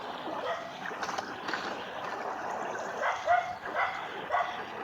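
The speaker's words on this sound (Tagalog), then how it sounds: "May aso eh." A dog barks and yips outdoors in a rural area, short sharp calls scattered across the clip at moderate distance over a steady background hiss, with no talking.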